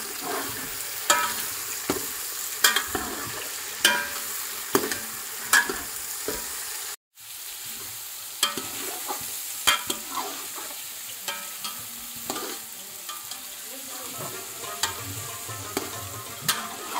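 Meat frying in a pan is stirred and mixed with a spoon, giving a steady sizzle punctuated by regular sharp scraping clinks, with one brief dropout partway through.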